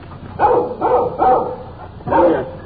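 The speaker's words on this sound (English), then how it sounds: "Little dog following us, keeping at a safe distance. He's making an awful lot of noise for a little fella." A small dog barks four times in a quick, uneven series, loud and fairly close, following at a distance during a walk, with no talking.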